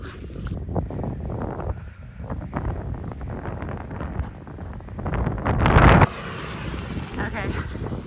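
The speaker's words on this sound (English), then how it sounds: "it's very windy, 24-kilometer-mile winds" Strong gusting wind of about 24 km/h buffets the microphone outdoors on a road during a run, rumbling loudly throughout, with a speaker's voice partly heard under the wind.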